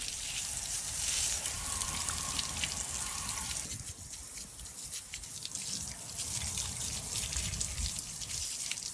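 Water rinsing over a 1929 Hercules 1.5 hp hit-and-miss engine, a continuous close spraying splash that dips slightly midway, no voices.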